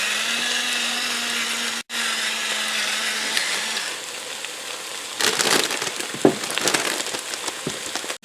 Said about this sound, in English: I'm going to add some fresh ground pepper.